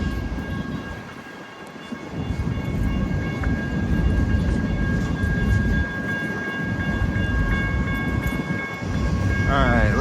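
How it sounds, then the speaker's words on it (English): A train rolls past a railfanning spot on Sublette Avenue, a steady loud rumble of wheels and cars holding for the full length with brief dips, faint high tones riding above the roar. "This train was going by"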